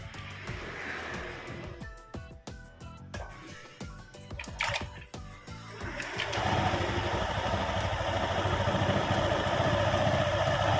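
A Honda Beat scooter engine cranks with several uneven bursts, then catches and settles into a steady, close, buzzing idle that runs to the end without talk.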